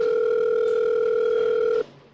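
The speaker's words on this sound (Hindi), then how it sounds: "इंस्पेक्टर शुभ्रत ने साइबर सेल को फोन किया।" A steady telephone dial tone hums loud and close for nearly two seconds, then cuts off abruptly, as a police inspector phones the cyber cell.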